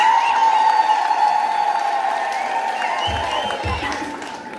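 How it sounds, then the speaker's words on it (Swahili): Wedding guests at a ceremony applaud as a couple receives their marriage certificate, a broad steady wash of clapping with a sustained tonal hum underneath, fading slightly toward the end. "Tuwapige makofi."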